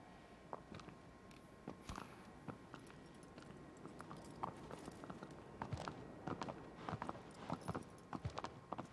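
Horse hooves clopping at a walking pace in the video game Shadow of the Colossus, a steady run of light, close thuds over a busy game background, with no talking.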